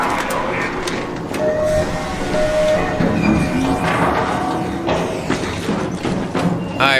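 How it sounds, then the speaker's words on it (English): A train arrives in the video game Arc Raiders with rumbling rail noise, clanks and thuds, and mechanical tones mixed under game effects at steady loudness. "Train has arrived."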